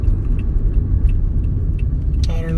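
A car is being driven, with steady low engine rumble and road noise filling the cabin throughout, and a brief higher clatter near the end.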